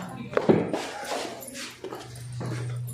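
A dog gives a couple of short whimpering yips near the start, over a steady low hum and background noise, with people talking nearby.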